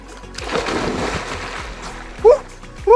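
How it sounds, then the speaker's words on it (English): A person jumps into a cold high alpine lake on the Rae Lakes Loop in Kings Canyon: a close, heavy splash and churning water, then short breathless vocal whoops. "There's not much that feels better than jumping in a high alpine lake."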